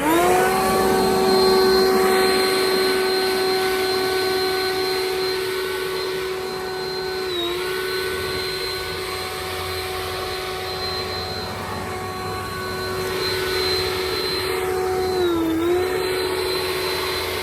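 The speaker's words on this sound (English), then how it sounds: "So watch how this is the perfect battery for my Ryobi air blower." A Ryobi cordless air blower runs on a Nisatoro battery, giving a steady high-pitched whine with a strong tonal hum, briefly dipping twice as it is moved, close up and with no talking.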